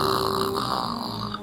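A child imitates snoring with a short, breathy rasp that holds steady for about a second and a half, close to the listener, with no other sounds around it.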